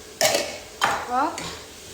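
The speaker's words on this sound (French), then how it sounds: "Et je laisse 2 minutes en mélangeant." Tomato paste being stirred in a pan, with a few distinct scraping strokes of the spoon and a soft sizzle in between, close and fairly loud with no talk.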